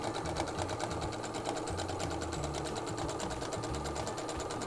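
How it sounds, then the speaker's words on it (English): A sewing machine stitches a soup bowl cozy with batting inside, its rapid, even mechanical chatter running steadily and close up with no voices. "Bit of a back stitch"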